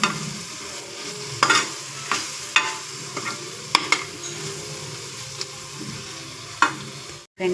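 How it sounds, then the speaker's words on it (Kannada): Cluster beans already fried in oil are stirred into a pan with scattered scraping strokes and soft clicks over a low, quiet sizzle. "ಈಗ ನಾವು ಎಣ್ಣೆಯಲ್ಲಿ ಹುರಿದಿರ್ತಕ್ಕಂಥ ಚೌಳೆಕಾಯಿ ಪಲ್ಯವನ್ನು ಹಾಕ್ತಾಯಿದ್ದೀವಿ"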